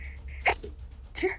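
A single short sneeze bursts out at a moderate distance, followed about a second later by a second, similar sharp burst, over a low steady hum.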